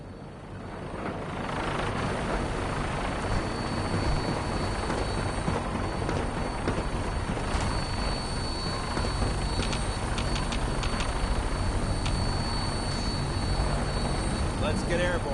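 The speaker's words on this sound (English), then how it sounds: "Now, we have a vertibird on standby, fully armed and ready to depart." Vertibird tiltrotor aircraft from Fallout 4, its engines and rotors giving a steady, loud, close droning roar that holds throughout, with voices faintly under it.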